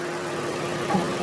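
Škoda Slavia's 1.5-litre TSI turbo petrol engine, 147 hp with automatic transmission, idling with a steady mid-pitched hum and faint ticking, close and constant with no talk.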